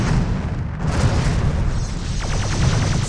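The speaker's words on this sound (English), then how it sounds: "Oh, those are the cannons." Cannon fire in the Star Trek Bridge Commander space combat game comes as a continuous heavy, booming rumble, with a rapid series of pulsing blasts toward the end.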